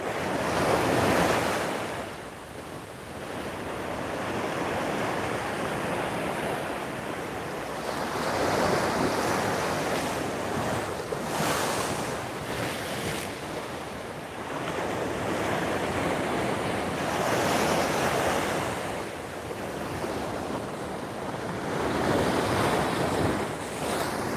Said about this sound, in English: There's waves that are coming up behind me.